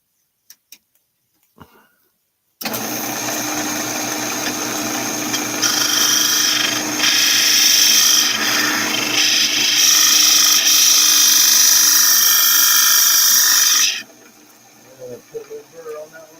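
A wood lathe spins a workpiece while a skew chisel cuts, producing a sustained high, scraping whine for about eleven seconds that starts abruptly and cuts off, with light handling knocks before and after.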